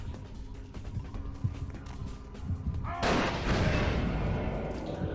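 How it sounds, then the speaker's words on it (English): Game explosions in Vampire the Masquerade: Bloodlines, a muffled thud early on followed by a loud, rumbling blast that swells and lingers, with scattered impacts and a voice heard faintly underneath. "He drops grenades, is what he does."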